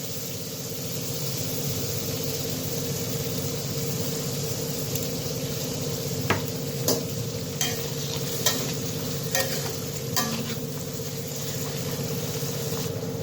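Curry of jackfruit seeds and taro stolons sautéed and stirred in a pan: a steady close sizzle with a low hum underneath, broken by a few sharp scrapes and clacks of the spoon against the pan.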